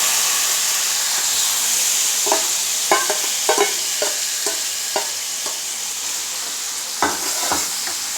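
Onions frying and being stirred for Mughlai chicken: a steady loud sizzle with irregular scraping clicks of a spoon in the pan, no talking.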